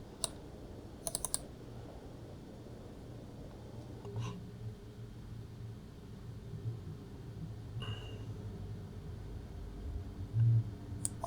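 Computer mouse clicks during a software installation on a PC, a few sparse, faint clicks spaced apart over a quiet room background with low hum.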